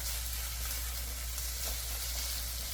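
Onions stir-fry in oil in a pan for japchae, making a soft, steady sizzle that continues evenly and faintly throughout.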